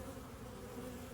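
Honeybees buzz steadily around an open hive frame holding little wax, a dense, close, continuous hum with no voices over it.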